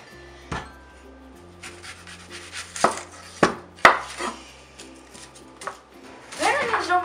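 Knife chopping through the ends of a red onion on a board in a home kitchen, a few sharp separate cuts with softer scraping between them, close and clear.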